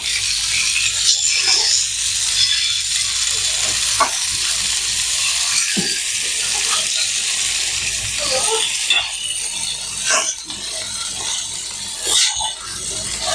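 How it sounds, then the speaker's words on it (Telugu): Fish pieces shallow-fry in oil in a pan over a low flame, giving a steady soft sizzle and crackle throughout, with a few brief clicks and scrapes. "సిమ్లో అయితే ఈ విధంగా వేయించుకున్నాం చేప ముక్కల్ని"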